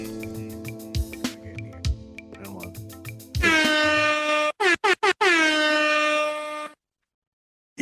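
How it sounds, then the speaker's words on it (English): An air horn blares loudly in a long sustained blast, then in several short rapid honks and another long blast, following a stretch of rhythmic music with beats. "I got my own air horn"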